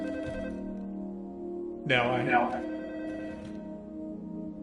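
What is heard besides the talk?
telephone ringing in a video game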